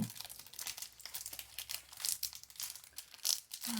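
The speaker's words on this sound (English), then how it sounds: "Are these promos gonna be hard to open now? Yeah, the plastic is hard." Stiff plastic wrapping on Pokemon card promos from an Iono Premium Tournament Collection crinkles and crackles continuously as it is worked open, close and fairly loud, with sharper crunches near the end.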